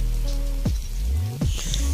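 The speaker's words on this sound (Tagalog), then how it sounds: "lumabas tayo kahit umuulan" Steady rain patters throughout, with a low droning hum and a couple of brief rising-and-falling swooshes passing nearby.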